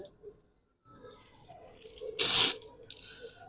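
Water splashing at a sink during ablution as it is drawn into the nose, a close burst of trickling and dripping that swells midway and then trails off.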